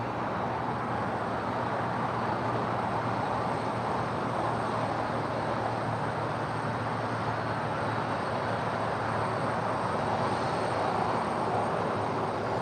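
A Moss Air Cargo Boeing 767-300ER arrives at LAX from Mexico City, a steady broadband jet roar heard from a distance, sustained and even throughout with no voices.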